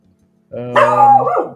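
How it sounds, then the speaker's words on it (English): A dog gives one drawn-out, loud bark-like yowl close to the microphone, rising and then falling in pitch, breaking into a quiet moment. "that was my dog."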